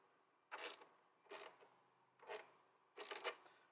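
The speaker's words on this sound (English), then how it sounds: "So I'm using a small box wrench, ratchet." A small box wrench ratchet tightening a part in a workshop, giving four short bursts of clicking spaced about a second apart, close and fairly quiet with no talk.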